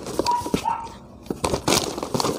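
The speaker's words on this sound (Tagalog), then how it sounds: "medyo maingay yung aso" A dog barks several times nearby in short, sharp bursts, with a brief whine between them.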